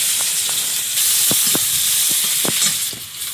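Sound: panch phoron spices and chopped onion sizzling in hot oil

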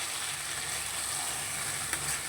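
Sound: spice paste with tomato frying in pan

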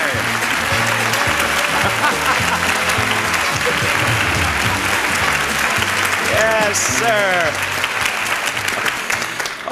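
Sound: studio audience applause on The Price Is Right

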